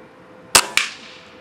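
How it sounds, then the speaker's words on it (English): An air rifle fires a .22 RWS Superfield pellet at a target 25 meters away: a sharp, close crack followed quickly by a second snap, likely the pellet striking, then a brief fading tail. "I put another shot in just to make sure that wasn't a fluke."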